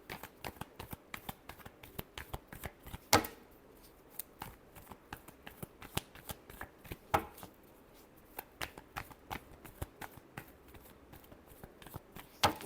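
Tarot cards are shuffled by hand in a quiet room, a steady stream of soft riffling clicks and slaps with a few sharper snaps, no voices.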